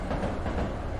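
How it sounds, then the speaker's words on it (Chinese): Deep, dense rumble of an electric train passing close by, a steady roar with faint rhythmic wheel thumps filling the whole short moment. "为什么电车的声音听上去异常的接近啊？"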